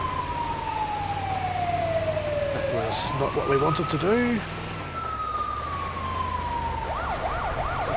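Emergency vehicle siren in GTA 5, responding code 3 on a wet early-morning patrol, wailing and sweeping loudly up and down, then switching to a rapid yelp, with someone talking over it.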